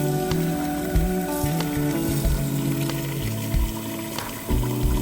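Very hot water runs steadily from a tap into a basin, a continuous splashing rush with small gurgling shifts, close and fairly loud.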